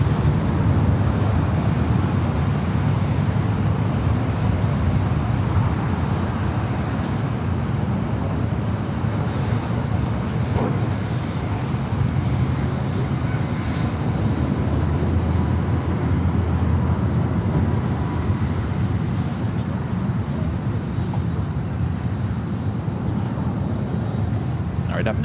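A Boeing 777 jet passes overhead while descending near LAX, a steady loud broadband roar filling the whole stretch with a deep rumbling low end and no clear beginning or end, sounding close and continuous throughout.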